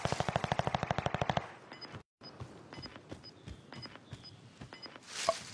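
Rapid bursts of video-game automatic gunfire open loud and fast, then give way to scattered single shots and softer distant firing, ending in a louder blast.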